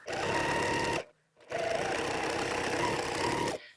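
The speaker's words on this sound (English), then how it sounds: "And I'm just going to sew. Make sure my strips are lined up." A sewing machine stitches strips of quilt fabric in two steady, fast whirring runs, loud and close, separated by a short pause, with no talking.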